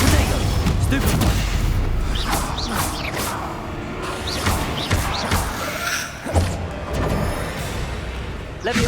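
Stupefy spell impacts in the Hogwarts Legacy game, a dense run of sharp thuds, slams and crackling bursts against a busy rumbling combat backdrop, with a voice heard beneath.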